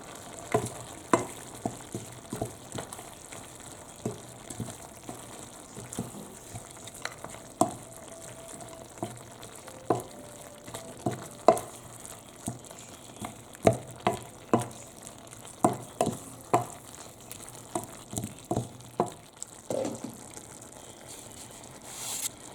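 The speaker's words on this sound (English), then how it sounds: "it's just cooking in a low heat right now, so it's going to just absorb the flavor at this point over the next 45 minutes" Sri Lankan mutton curry simmering on low heat, a quiet steady sizzle and bubble broken by frequent sharp pops and spatters, close, with no talk over it.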